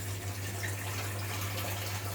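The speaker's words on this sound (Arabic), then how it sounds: "ميه عاديه من الحنفيه" Ordinary tap water runs into a cooking pot while Egyptian koshari is being made: a steady, fairly quiet rush and splash under a low electrical hum.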